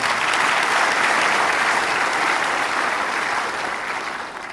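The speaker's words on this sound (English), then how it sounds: "give yourselves a big round of applause" A large audience at a talk breaks into sustained applause, dense even clapping filling the room before gradually tapering off toward the end.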